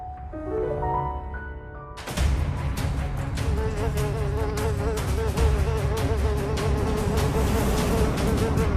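A dense, steady buzzing of many flies swarming close by, rising suddenly after a brief musical passage and continuing loudly without a break.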